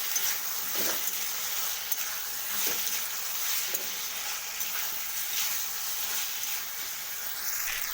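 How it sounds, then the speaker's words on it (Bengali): Curry being fried and stirred in a pan, a steady soft sizzle with occasional faint scrapes of stirring, fairly quiet and even throughout with no talking. "ভালো করে কষিয়ে নেব"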